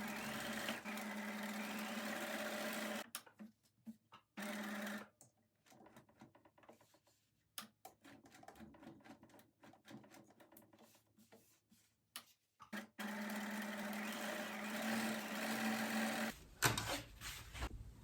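Domestic sewing machine stitching fabric with correct sides facing for fabric tentacles, running in steady motorized bursts with short pauses and stop-start gaps, close and moderately loud, no talk.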